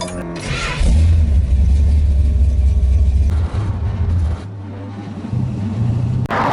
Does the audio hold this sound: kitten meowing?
no